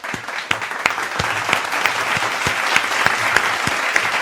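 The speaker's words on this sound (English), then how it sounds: "Clap it up." Clapping during a first listen to Linkin Park's "The Emptiness Machine", loud and fairly close, with sharp claps falling in a steady, regular rhythm over a thumping beat.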